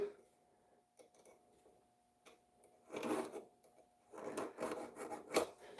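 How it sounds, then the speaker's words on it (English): A flat file rasps burrs off a metal pendant bail in short, close, quiet strokes, sparse at first and then a quicker run of scraping passes. "I like to take just a flat file and just quickly file those burrs down"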